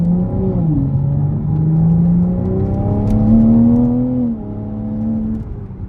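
Toyota A90 Supra or BMW G87 M2 sports car engine pulling hard under acceleration, a loud rising drone climbing in pitch, dipping at a gear shift and climbing again, heard from inside the cabin with no talk.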